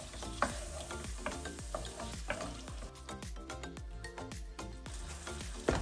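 Prawns fry in a wok for Malaysian fried rice with Chinese cooking wine, a steady close sizzle broken by repeated clattering stirs and scrapes of a spatula, busier toward the end, no speech.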